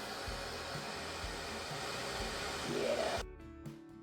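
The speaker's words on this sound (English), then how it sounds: "tried that ripple water effect using an acrylic tray and a hairdryer" A hair dryer blows steadily with a loud, constant whoosh, then cuts off abruptly near the end, leaving a brief quieter mechanical hum.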